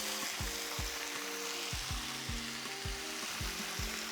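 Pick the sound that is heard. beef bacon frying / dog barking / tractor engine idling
beef bacon frying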